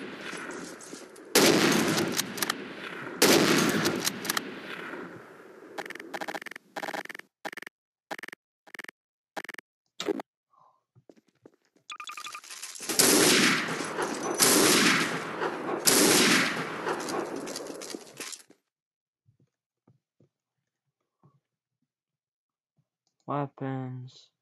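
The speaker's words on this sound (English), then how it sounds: "This is a very useless sniper rifle." Loud, sharp gunshots from sniper rifles in an M9K weapons game mod, arriving as bursts of cracks and rapid clicking across two long stretches, with near silence between and one brief shot at the end.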